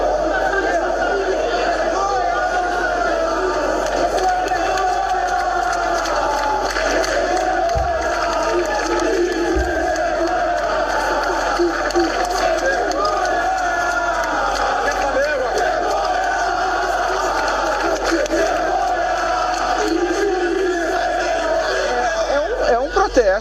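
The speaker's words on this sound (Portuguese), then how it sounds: "A gente está aí com a imagem agora de protesto da torcida do Flamengo." Flamengo supporters chanting in protest after a 2-2 draw with Palmeiras, a dense crowd roar of massed voices sustained throughout, loud and continuous, with a couple of low thumps partway.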